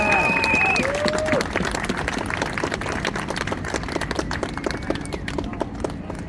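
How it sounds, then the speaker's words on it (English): An outdoor protest crowd applauds the next speaker, with a burst of clapping that thins toward scattered claps and fades gradually, while a whistle-like tone and some voices sound at the start. "Please give them a big round of applause."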